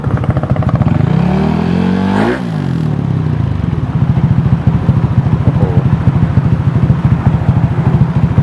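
A modified Lead125 scooter with a 4-valve head, 63 mm piston and lengthened stroke runs close and loud, rising in a quick rev that sweeps up and falls away, then settling into a rough, pulsing idle.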